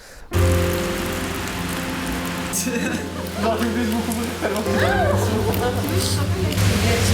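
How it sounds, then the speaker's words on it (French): Rain falls steadily on an outdoor square during a film shoot, a continuous close hiss that runs under voices and other faint tones. "la pluie quand on était au square"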